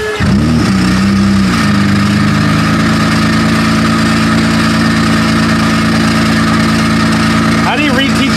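A Honda Accord that had been sitting unused cranks and catches, then settles into a steady, loud idle with a constant low drone that runs close to the microphone throughout; a brief rev or rise comes near the end.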